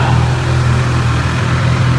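A Honda CB1000R motorcycle engine runs loud and close with a steady low rumble, held at an even throttle rather than rising sharply, with no voices over it.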